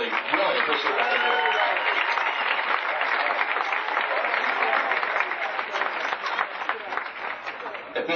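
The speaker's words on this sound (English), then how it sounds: "can we give them a round of applause, please?" A banquet crowd at a 1986 regiment dinner breaks into warm, continuous applause, dense clapping filling the room throughout with a few voices mixed in.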